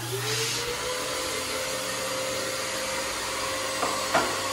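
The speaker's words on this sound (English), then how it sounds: "Okay, we're gonna vacuum." A household vacuum cleaner runs with a steady, loud broadband roar and hum throughout, during a family's cross-town move, with brief knocks near the end and no talking.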